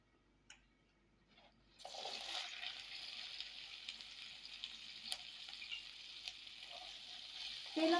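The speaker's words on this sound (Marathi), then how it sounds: "त्याच्यात आपल्याला आता हळद आणि मीठ टाकून भेंडी चांगली फ्राय करून घ्यायची" Okra with turmeric and salt goes into hot oil in a kadhai after a quiet start, bursting into a steady, close sizzle that holds, with faint stirring and a louder rustle near the end.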